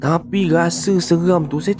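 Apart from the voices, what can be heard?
None of the usual background noises is heard.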